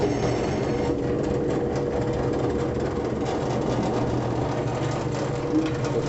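Steady mechanical whir and low rumble from a pasta machine rolling floured spinach pasta dough, continuous and close, with no talk.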